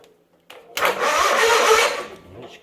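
A John Deere garden tractor engine cranking on a newly replaced starter: one brief click, then a loud, fast, steady whirring crank that lasts over a second before tapering off.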